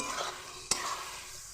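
Dried fish and taro stems stir-frying in a pan make a soft, close sizzle, with a single sharp clink of a spatula against the pan midway.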